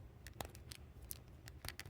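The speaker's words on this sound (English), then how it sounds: "I love a ratchet joint, and the click it makes is just so satisfying." Ratchet joint on a McFarlane Mortal Kombat action figure, a series of faint, sharp, close clicks spaced irregularly over two seconds with a quiet hiss behind.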